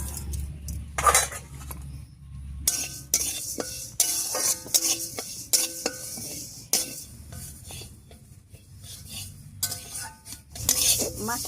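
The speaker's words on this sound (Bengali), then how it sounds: "এই ডালটা প্রথমে ভেজে নিচ্ছি" Lentils dry-frying in a kadai, a run of close metallic scrapes and clinks as a spatula stirs the dry grains against the pan, with quiet gaps between bursts.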